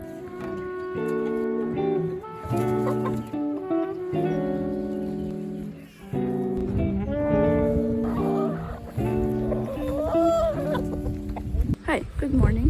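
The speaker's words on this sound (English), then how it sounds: "feeding our laying hens in the chicken tractor out on pasture" Laying hens in a chicken tractor on pasture cluck and call in a dense, continuous chorus, loud and close, with harmonic squawks rising over a steady background.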